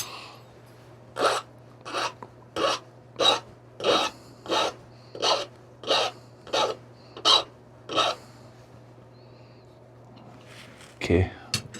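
Obsidian being sharpened with a file or abrader during flintknapping of a turkey tail point: about a dozen short, evenly spaced rasping strokes, close and fairly loud over a low steady hum, then a brief louder scrape at the end.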